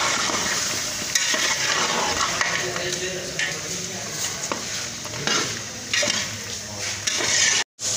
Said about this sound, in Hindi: इसको अच्छी तरह भून लेंगे और इसमें शामिल करेंगे मटर